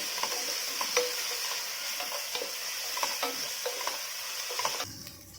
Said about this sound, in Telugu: ఇప్పుడు ఒక 2 స్పూన్స్ ఆఫ్ అల్లం వెల్లుల్లి పేస్ట్ పచ్చివాసన పోయేంత వరకు యాడ్ చేసి వేయించుకుందాము